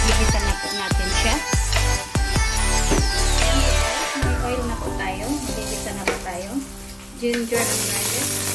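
Aromatics being sautéed in a pan for adobong kangkong: a loud, close, continuous sizzle and frying crackle, with scraping, clanking stirs and a brief rising squeal partway through.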